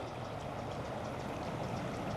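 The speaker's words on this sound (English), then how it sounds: "that sound of the river right there" A river in Yosemite National Park rushes in a steady, broadband wash of flowing water, constant and fairly close, with no voices over it.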